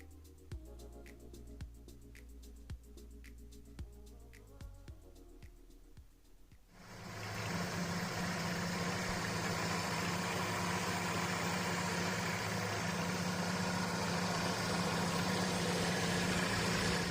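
1986 Ford Fiesta XR2 engine, the naturally aspirated motor first ticking and rumbling at a low idle, then rising to a louder, steady roar that holds to the end, close and alone with no voices.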